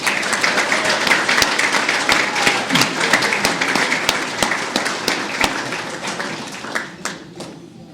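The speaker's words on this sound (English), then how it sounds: "Please give Larry Marfise another big round of applause." A large crowd at a Tampa Spartan Hall of Fame ceremony gives a sustained round of applause, loud and dense, with sharp individual claps that thin out toward the end.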